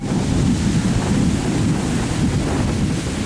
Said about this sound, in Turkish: Konyaaltı sahilinde de fırtına nedeniyle boyu 5 metreye kadar ulaşan dev dalgalar kıyıya